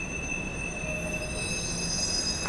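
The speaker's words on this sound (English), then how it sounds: "The train struggling." A steady high-pitched squeal of train wheels on rails along Yonge Street in Toronto, heard from a bike, with several sustained shrill tones over a low rumble, close and continuous.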